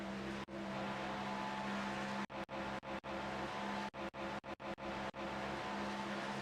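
GTP, LMP and GT3 race cars at the Daytona 24 in a racing game, a steady loud engine drone broken by quick gear-shift dips and brief tire squeal.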